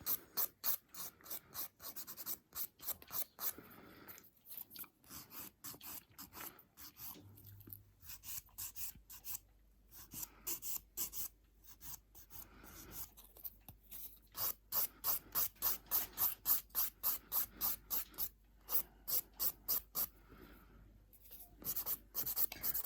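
An acrylic nail is filed in quick rasping strokes, close and fairly faint, coming in fast bursts of even scrapes separated by short pauses.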